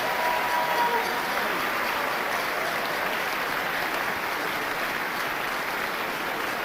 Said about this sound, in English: Let's give Forrest another round of applause.